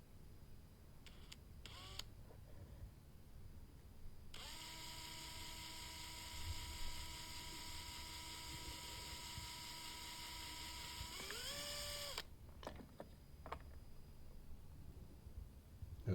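Small electric drill boring a 3mm pilot hole in a Raddy RF320 radio casing, a steady high motor whine lasting about eight seconds, bracketed by brief clicks and handling noises, close and quiet.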